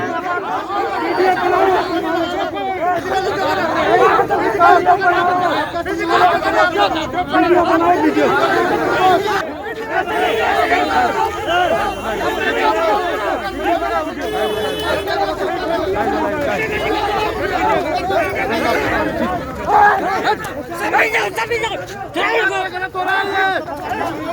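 A crowd of protesters gathers at a police station, many voices overlapping in a dense, loud babble of shouting and chatter that carries on without pause.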